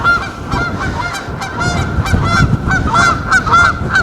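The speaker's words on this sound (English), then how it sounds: "The geese don't like RF." Geese honk repeatedly and loudly, close by, in a quick uneven series of calls over steady outdoor wind noise on a windy day by the water.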